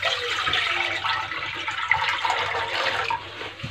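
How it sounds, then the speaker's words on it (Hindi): About one litre of water poured steadily into a bowl in a kitchen for boiling pasta, a continuous close splashing rush with no talking. "इसमें 1 लीटर पानी डालेंगे।"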